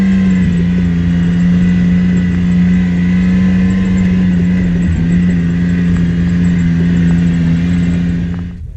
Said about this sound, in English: I love the sound of the X3 when you're off the gas and it's starting to pick the clutch up again. And it burbles the engine like that.